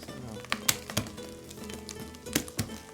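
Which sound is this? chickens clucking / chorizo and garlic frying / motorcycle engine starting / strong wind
chorizo and garlic frying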